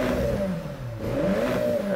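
A car engine revs in a racing video game, a steady mid-pitched drone that dips briefly then climbs again, close and loud, with no speech over it.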